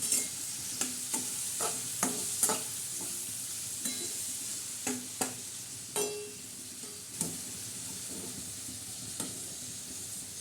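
A tadka tempering for moong dal sizzles in a pan, with a steady hissing fry punctuated by regular stirring taps and clinks, close by and with no talking.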